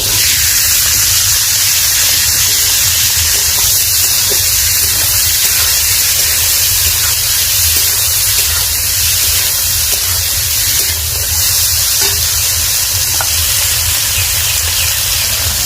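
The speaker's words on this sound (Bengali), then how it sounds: "এখানে আমি কেটে রেখেছি বিনস, গাজর আর মটরশুঁটি, এটা আমি একটু ভেজে নিব" Cut beans, carrots and peas fry in hot oil for khichri, giving a steady, loud, broadband sizzle that hisses without pause for the whole stretch, with no talking.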